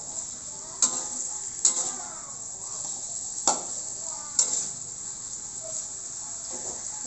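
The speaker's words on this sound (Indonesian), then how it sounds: "Kemudian ayamnya disaok lagi, diaduk-aduk agar bumbunya merata ke semua daging." Seasoned chicken pieces being stirred in a sizzling pan, with a steady fry and a few sharp scraping knocks of the utensil against the pan spaced several seconds apart, close and moderately loud.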